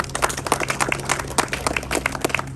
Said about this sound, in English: I think that by itself deserves a little round of applause